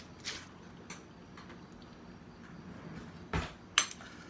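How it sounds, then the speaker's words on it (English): A spoon scrapes the soft flesh from inside a watermelon shell: faint, brief scratchy strokes spaced a second or more apart, ending with a light clink. "You keep scraping it off until you get to know that there's no more watermelon inside here."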